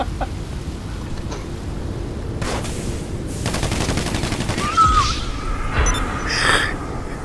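Video game gunfire in Grand Theft Auto V comes as a quick burst of rapid shots aimed at spilled gasoline, followed by a few scattered shots over steady background game ambience.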